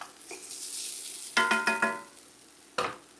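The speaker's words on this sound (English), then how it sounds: "We're gonna stir it in." Potatoes and avocado stirred in a pan for a vegan Mexican ground beef, green bean and potato dish: a soft sizzle beneath a few sharp scraping clatters of a utensil against the pan, with no talk.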